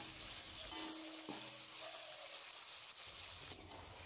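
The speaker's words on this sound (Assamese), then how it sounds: "এতিয়া বিলাহীখিনিও অকণমান লৰাই দিছোঁ আৰু এইখিনি মই গলি যোৱালৈকে ভাজি ল'ম" Chopped tomatoes fry in a pan while being stirred, giving a soft, steady sizzle that stays faint and close throughout.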